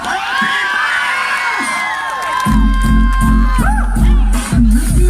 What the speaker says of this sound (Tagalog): Kulang sa palakpakan na may kasama sigawan.